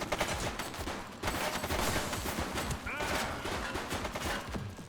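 Rapid bursts of gunfire in The Precinct police video game, loud and sustained throughout with dense repeated shots, mixed with game sounds and some speech underneath.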